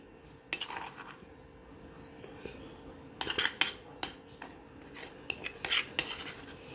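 A spoon scrapes and clinks against a bowl and plate while half of a green chutney is served out, scattered metallic taps and rasps in irregular bursts, close and moderately quiet.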